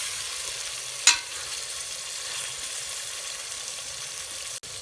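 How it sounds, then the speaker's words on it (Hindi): Chicken korma stirred in a cooking pot, a steady sizzling, frying hiss throughout with one brief scrape of the spoon near the start; no voices. "ये देखें हम लोगों ने अच्छे तरीके से कौरमे को मिक्स कर लिया है।"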